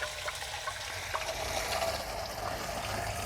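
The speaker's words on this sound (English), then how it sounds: "I'm just going to put some water in here with a garden hose." Water from a garden hose pours steadily into a garden pump sprayer tank as a continuous, even rush and splash, fairly quiet and with no talking.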